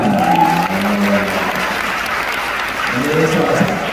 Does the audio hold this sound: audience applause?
yes